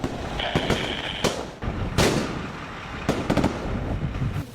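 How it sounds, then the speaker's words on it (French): Gunfire during a military operation in Burkina Faso: several sharp distant-to-mid cracks and bursts, a few spaced single shots and a clustered volley near the end, over steady outdoor background noise with no speech. "mais les coups de feu sont audibles."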